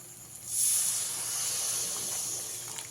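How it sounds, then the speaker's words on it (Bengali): Water poured into hot frying mustard masala for a pabda fish curry hisses and sizzles loudly, a sudden bright steamy burst that holds steady for a few seconds with no talking. "এবারে এর মধ্যে আমি পরিমাণ মতন জল দিয়ে দেব"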